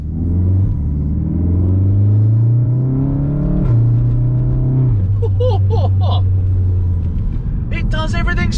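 A track car's engine drones loudly from inside, the pitch stepping up as it accelerates, dropping at a gear change and climbing again, with brief voices over the engine near the end.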